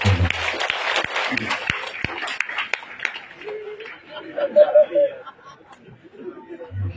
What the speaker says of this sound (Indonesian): Tepuk tangan untuk Paterlikus.